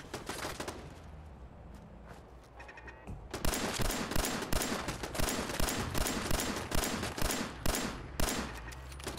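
Rapid automatic turret gunfire in Fallout 4 crackles in dense, loud bursts, sparse at first and then a continuous rattling barrage for several seconds.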